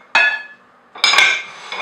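A small ceramic baking dish set down on a kitchen counter gives two sharp clinks, the second a quick double knock with ringing decay, close and alone.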